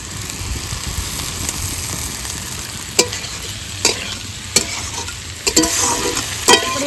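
Paneer and green chilies stir-fried in ground spices in a pan for an egg-paneer curry; a steady sizzle runs throughout, broken by sharp spatula scrapes and knocks every second or so, with no talking.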